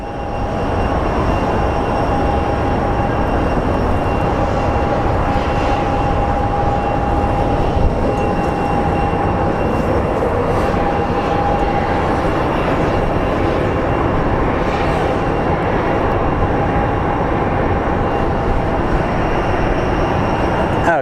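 A Southwest Airlines airliner at Phoenix Sky Harbor International Airport produces a loud, steady, unbroken engine roar with a faint high whine running through it, alone with no talking.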